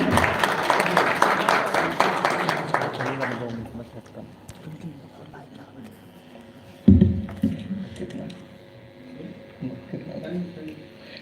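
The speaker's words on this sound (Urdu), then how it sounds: "آپ کی بھرپور تالیوں میں" Applause from an audience at a religious address in Punjab fills the first few seconds, then fades, followed by someone speaking over a faint hum.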